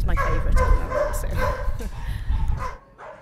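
Dogs barking in an animal sanctuary kennel, a steady run of close yaps and woofs filling most of the moment, with a voice talking over the barking before it drops away near the end.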